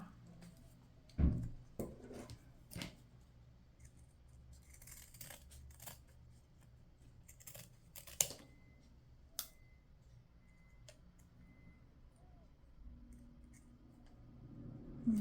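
Scissors snip through a small piece of double-sided tape while a satin ribbon bow is assembled, giving a few sharp, scattered clicks and cuts, faint and close in an otherwise quiet room.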